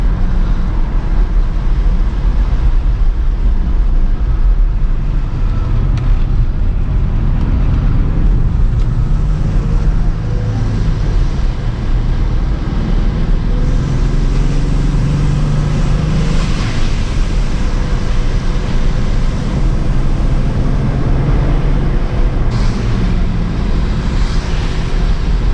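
A stock Nissan 350z drives in the rain with traction control off, its engine drone and road rumble steady and close, blended with a constant wash of wet tire hiss and no voices.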